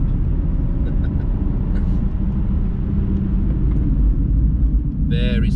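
Low, steady rumble of a car lapping the Nürburgring on semi-slick tyres, heard from inside with engine and road noise droning loudly throughout.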